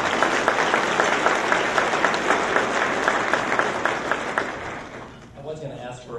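Audience at a civic luncheon forum applauding, a full, steady burst of many hands that thins and fades out near the end, leaving quiet room noise.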